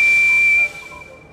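Thomas the Tank Engine's steam whistle from a children's train video game, one loud, steady, high-pitched blast with airy steam hiss that cuts off abruptly and leaves a fading tail.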